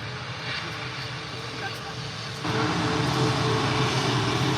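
A Ryanair jet at Leeds Bradford Airport during a storm rumbles in the distance, its engine roar swelling louder partway through amid wind, with a voice talking faintly.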